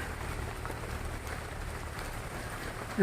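Steady rain falls on a home vegetable garden with eggplant plants during several days of wet weather, a soft continuous patter with no voices.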